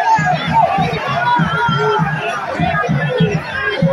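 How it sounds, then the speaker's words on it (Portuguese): A football crowd at a 2022 intermunicipal match shouting for a penalty, a dense, loud mass of voices with rhythmic pulsing chants, close and continuous throughout. "A torcida aqui pede pênalti,"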